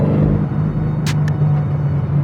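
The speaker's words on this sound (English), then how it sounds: "M mode in the M3 does have a little burble happening" A BMW M3 Competition G80 in M mode gives a low, steady engine rumble heard from inside the car, with a subtle exhaust burble and a couple of brief crackles near the middle.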